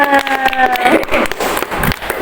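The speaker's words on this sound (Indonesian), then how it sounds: "Tepuk tangan dong buat kalian semua." Students in a group guidance session clap for everyone after a career simulation game, uneven clapping from a small group with a sustained tone fading early and scattered voices mixed in.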